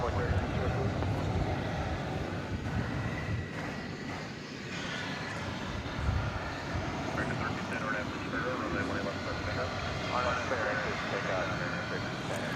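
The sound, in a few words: American Airlines Airbus A321 jet aircraft at DFW Airport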